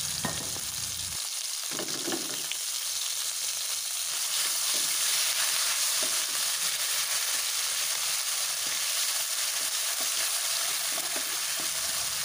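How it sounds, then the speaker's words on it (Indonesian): Ground spice paste sautés in hot oil in a pan, giving a steady, loud sizzle and crackle that runs the whole time, with occasional stirring scrapes and no voices. "Panaskan minyak secukupnya, kemudian tumis bumbu hingga benar-benar matang."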